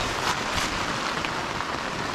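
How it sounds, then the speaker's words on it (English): Rain pours steadily at a remote island beach campsite, a dense, even hiss of drops hitting surfaces at close range with no break and no voices. "Oh man, it's really starting to rain again."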